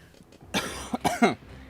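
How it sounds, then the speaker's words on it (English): A harsh, wet cough from a sick person bursts out in a few rapid spasms, loud and close, with a ragged fit after a brief pause. "This is like the craziest fucking cough I've ever had."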